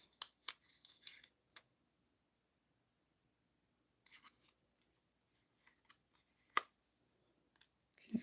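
Quiet scissor cuts at a papercraft desk: a few crisp snips early, then a pause of near silence, followed by more scattered light snipping and rustling, with no talking.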